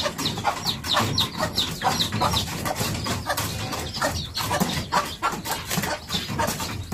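Native chickens cluck on a farm, a busy overlapping flock of close, repeated clucks and squawks over a constant outdoor bed of noise.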